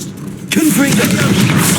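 Confringo spell blast in Hogwarts Legacy, with a booming explosion that hits about a third of the way in and stays loud and rumbling over the ongoing background game sound.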